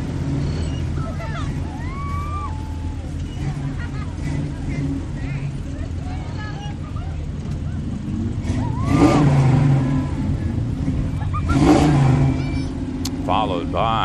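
A Ford Mustang rolls through a street parade in Long Beach, its engine rumbling steadily with two louder revving surges, while people talk nearby and crowd noise fills the background.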